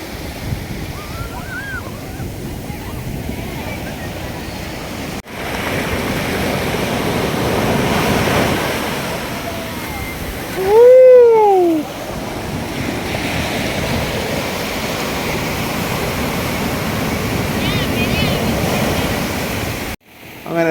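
Sea waves roll and wash steadily onto a Chennai beach, a loud, broad rushing surf with gusty wind buffeting the microphone, and a brief tonal whistle rising above the roar midway.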